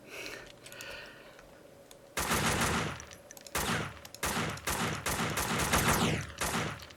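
Gunfire in the video game Max Payne 2: after a quieter opening, loud rapid bursts of shots arrive in several clustered volleys with short gaps between them, close and dominant over the faint game background.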